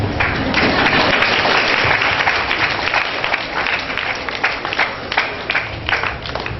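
Audience applause at a church festival in Vettumony, a dense, sustained wash of many hands clapping at close range with a faint voice under it.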